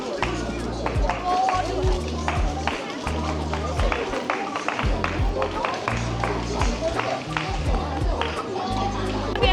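Shopkeepers at a busy Guilin market clap in rapid, repeated bursts to attract customers, sharp close claps over a constant hum of crowd chatter and movement.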